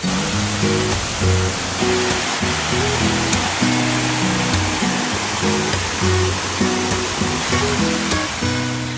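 River water flows steadily with a continuous broadband rush, close and fairly loud throughout, with no voices over it.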